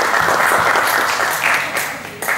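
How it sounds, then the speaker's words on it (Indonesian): Audience applause at a cultural tourism forum in Banyumas, a loud, dense burst of clapping that tapers slightly toward the end, with a faint voice or two underneath. "Tepuk tangan untuk kalian semua."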